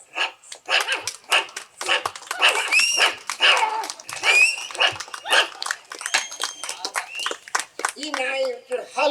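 A mimicry artist's voice imitates a dog, giving a string of sharp barks, yelps and whimpers in quick bursts, close and fairly loud, ending in a whining cry.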